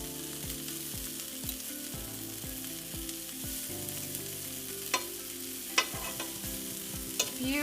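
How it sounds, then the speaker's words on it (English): Cauliflower steaks sizzle steadily in a hot pan, a close, even crackle with a few sharp pops and taps. "It's actually sizzling a little more now."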